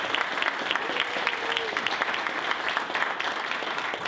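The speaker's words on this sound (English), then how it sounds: "we gave one more round of applause for Cynthia" A conference awards banquet audience claps for Cynthia, a continuous, even round of applause from a roomful of people, with a faint voice briefly audible beneath the clapping.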